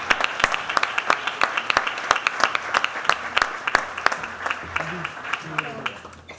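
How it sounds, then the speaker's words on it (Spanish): Audience applause at a Latin Grammy nominations event at The Conga Room, with dense, sustained clapping and sharp individual claps throughout, and a few voices briefly surfacing near the end. "Un gran aplauso para todas estas personalidades que nos acompañan."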